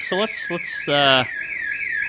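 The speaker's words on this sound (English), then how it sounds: "As you can now hear, there is an alarm going off next door again." A neighbouring house's alarm goes off next door, giving out steady electronic tones and repeated pulsing bursts while someone talks over it close to the mic.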